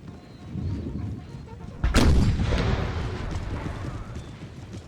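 Horse artillery fires in Napoleonic Total War 3, a single loud cannon boom near the middle that rolls into a lingering rumble over distant battle noise.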